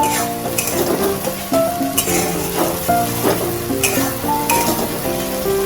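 Spice paste fries loudly in a pan with a constant hissing sizzle, punctuated by stirring scrapes and pan knocks, while tonal background music plays underneath.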